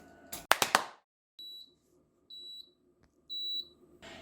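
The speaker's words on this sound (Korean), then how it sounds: "이렇게 세척 모드가 종료가 되면 배수가 되고 삐삐삐삐 하는 소리가 8초간 나게 됩니다" An SK Magic DWA1812 or Cuckoo CDWA0310TW dishwasher signals the end of its wash cycle with three clear, evenly spaced electronic beeps, close and fairly loud, following a few sharp knocks.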